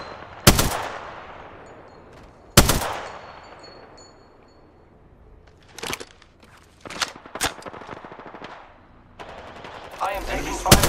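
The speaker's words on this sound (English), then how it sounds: "I am taking fire." Gunfire in Apex Legends: sharp, loud single shots with echoing decay, followed by quicker bursts of closer shots and rattling fire, separated by quieter gaps.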